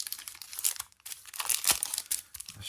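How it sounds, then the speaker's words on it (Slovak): Crinkly plastic wrapper of a hockey trading card pack being cut and torn open up close, a series of sharp crackling rustles with brief pauses. "Chcel by som nastrihnúť karty."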